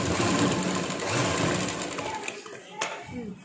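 A sewing machine stitches the border of a blouse, running in a fast steady whir close by before it slows and stops, with a few faint handling taps afterward.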